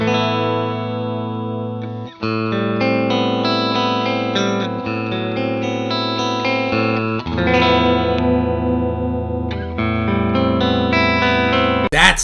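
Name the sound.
Fender Jazzmaster electric guitar with effects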